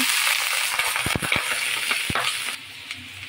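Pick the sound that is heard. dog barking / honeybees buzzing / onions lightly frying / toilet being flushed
onions lightly frying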